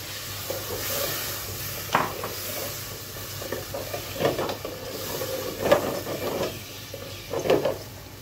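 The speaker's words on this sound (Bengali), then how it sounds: "এক মিনিটের মতো এটাকে একটু জাল দিয়ে নিব, একটু ভাপিয়ে নিব।" A large hilsa fish head and tail steam with a little water in a cooking pan, with a faint simmer underneath. A utensil stirs and scrapes against the pan in a few short, separate bursts.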